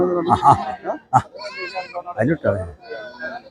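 Goats bleat close by at a goat market in several short, wavering cries, mixed with people talking nearby.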